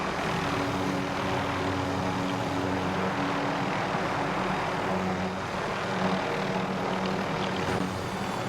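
A helicopter flies in the video game Call of Duty Warzone, its rotor and engine making a steady, loud drone that fills the whole stretch with an even, continuous hum.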